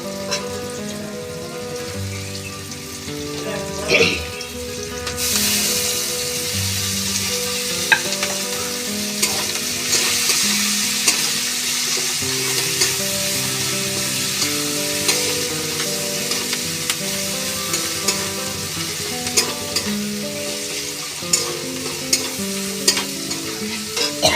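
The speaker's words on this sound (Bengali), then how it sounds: "এবার আমি কাঁচা লঙ্কা কুচিগুলো দিয়ে দিচ্ছি।" Chopped green chillies hit a pan with softening hog plums and are stir-fried, producing a continuous close sizzle with repeated sharp stirring clicks over about twenty seconds, with steady tonal music playing underneath.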